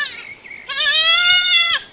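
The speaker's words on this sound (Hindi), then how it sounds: "ये बहुत रोने वाली बकरी, ये रो रही है, ये माँ करके चिल्ला रही है।" A goat bleats loudly and close by, first a short nasal cry and then a longer, strained wail that holds steady before cutting off.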